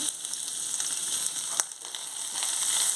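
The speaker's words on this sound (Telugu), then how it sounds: "ఇందులో టమాటీ ముక్కలు వేసుకోవాలి" Tomato pieces fry in a pan with ginger-garlic paste for an egg and okra curry, giving a steady, close, loud sizzle with one brief stirring clatter midway.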